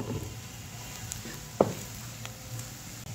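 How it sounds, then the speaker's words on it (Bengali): Turmeric powder dropped into hot oil with onion and garlic gives a faint, soft sizzle, with one sharp tap near the middle and light scraping in a quiet kitchen. "হলুদ গুঁড়ো তেলের উপরে দেওয়ার ফলে সুন্দর একটা কালার চলে আসবে"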